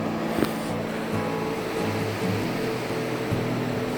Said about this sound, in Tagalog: Grabe yung tubig nila dito.